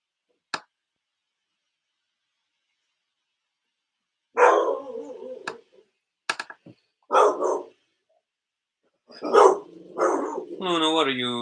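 A pet dog barks in a few short bursts in a quiet room, separated by pauses, with a person's voice joining near the end.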